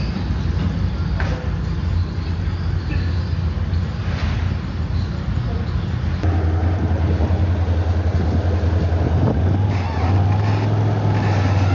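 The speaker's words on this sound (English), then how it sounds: "We've got this Ferret armored car." A British Ferret armored car bearing a Union Jack gives off a steady, muffled low engine rumble that persists throughout, fairly loud and continuous with slight shifts in tone.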